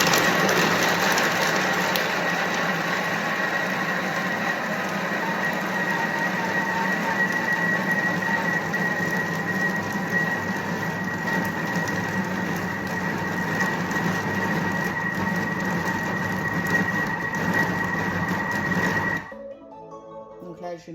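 A kitchen robot mixing puff pastry dough runs at a fixed speed with a steady, loud mechanical whir and grinding hum that continues evenly for about nineteen seconds, then stops abruptly.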